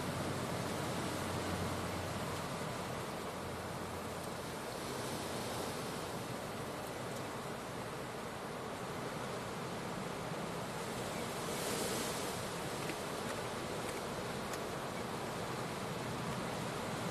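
Strong wind over 40 mph roars steadily across an airport at Leeds Bradford, a loud, continuous broadband gusting rush with buffeting on the microphone and no talk.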